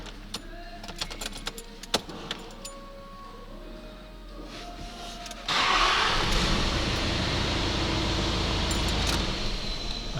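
An Audi A8 engine cranks and fires: a few seconds of clicks and whirring are followed by a sudden loud catch into a steady, close running drone.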